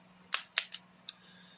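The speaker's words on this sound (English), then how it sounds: "Let's go ahead and clear our firearm here." A Ruger LCP pocket pistol being cleared gives a few sharp metallic clicks and clacks, four quick close snaps within about a second over a faint steady hum.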